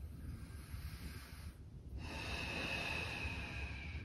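A man exhales audibly during a pelvic floor strengthening exercise, a soft breathy rush, then a brief pause, then a longer, louder steady exhalation close to the microphone.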